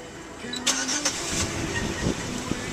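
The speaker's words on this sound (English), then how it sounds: "starting the engine" Car engine cranking and catching through a drive-by-wire touchpad ignition, a brief starter burst that settles into a steady mid-pitched hum, with a few clicks and knocks inside the cabin.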